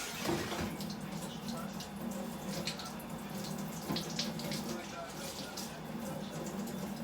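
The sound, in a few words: tap water running while washing hands with soap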